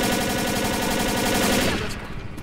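Rapid automatic gunfire from the zombie shooter game Left 4 Dead, a loud continuous burst of shots that cuts off abruptly near the end.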